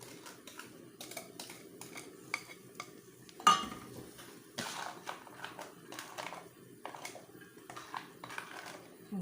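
Pastry cream mixture for a strawberry fraisier cake is stirred in a pot, with soft repeated scraping and clinking of a utensil against the metal, one sharper knock, and a quiet voice talking at moments.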